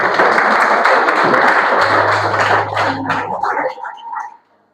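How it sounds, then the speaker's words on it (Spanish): A church congregation claps to welcome a young girl named Ashley, a brief loud burst of many hands that thins out and fades to silence, with a faint sustained tone beneath it. "Un aplauso para Ashley, bienvenida"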